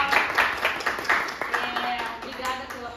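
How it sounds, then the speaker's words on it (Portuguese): A crowd claps for early childhood teachers, with a dense burst of hand claps at the start that gradually thins and softens, and faint voices mixed in. "Peço aplausos carinhosos de maneira duradoura"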